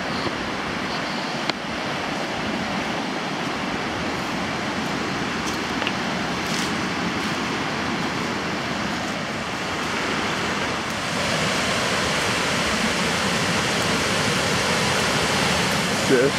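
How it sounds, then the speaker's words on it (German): A rushing waterfall swollen by days of rain, usually only a tiny stream, gives a continuous heavy roar that swells slightly louder toward the end as it is approached on foot. "Sehr stürmisch, der Wasserfall."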